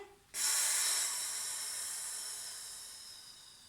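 A long, breathy exhale during a sophrology stretching exercise, starting abruptly after a brief quiet moment and fading slowly as a soft, close hiss of air, with no talking.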